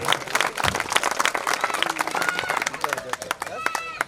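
A crowd at a temple idol consecration festival for a family community claps in a busy, uneven patter of many hands, close and fairly loud, with voices and murmuring underneath throughout.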